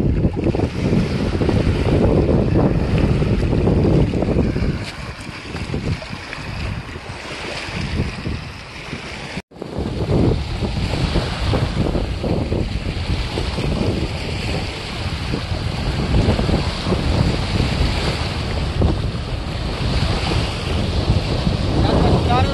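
Strong wind roars over open water during village boat fishing for rohu, buffeting the microphone in a loud, continuous rush with lapping waves beneath and one brief dropout midway.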